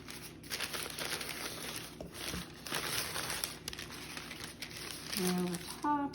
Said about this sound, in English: we'll peel the top carefully, making sure you don't peel the pie shell up with